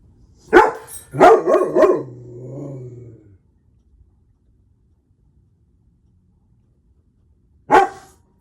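A dog barks outdoors in a neighborhood at night, a close burst of several loud barks and a drawn-out whine followed by silence, then one more sharp bark.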